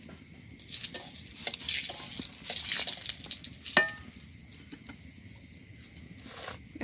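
Bay leaves, whole cumin seeds and dried chilies sizzle in hot oil at a village cook-out, a steady, close crackling hiss that swells and fades with a couple of sharp taps.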